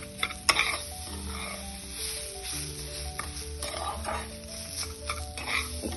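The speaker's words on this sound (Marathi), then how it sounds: "एक सारखं सतत भाजत राहायचं आहे।" Semolina and grated fresh coconut roasting dry in a pan for jaggery-coconut modak, with a steady soft sizzle and a spoon or spatula scraping and stirring in irregular strokes, plus occasional clinks against the pan.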